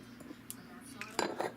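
A metal fork is picked up from a kitchen counter and clinks lightly against dishes and cutlery while a sandwich mixture is being prepared. Several short, faint, close-up clinks, the last ones slightly louder.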